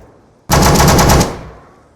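Machine gun fire from an Arma game mod: one loud, tight burst of rapid automatic shots lasting under a second, then a short echoing tail fading out.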